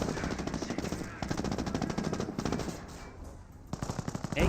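Rapid machine-gun bursts and rifle fire rattle in Company of Heroes battle combat, continuous loud volleys with a brief lull near the end before firing resumes, all close and dense.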